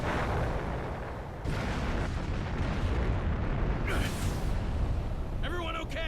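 Explosion in the video game Naruto Shippuden Ultimate Ninja Storm 3: dense, roaring blast noise fills the whole stretch, swelling again with a fresh burst partway through, while brief voice-like sounds poke through near the end.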